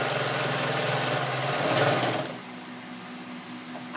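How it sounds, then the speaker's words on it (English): Sewing machine running steadily while stitching a denim apron made from old jeans, a continuous motor whir that drops to a quieter, lighter hum after about two seconds, close and alone. "I'm not stopping and doing a sharp turn. I'm doing a curved stitch."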